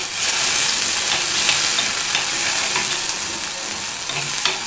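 Tomatoes sautéing and being stirred in a hot pan for a vendakka puli curry, a steady loud sizzle with scraping stir strokes throughout, no voices.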